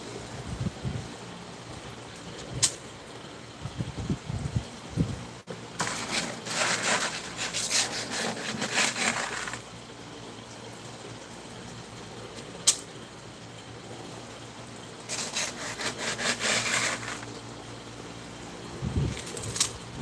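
A sanding tool rubs across wood in long, rasping bursts, with two sustained passes of close scraping separated by quieter handling noises and a few knocks.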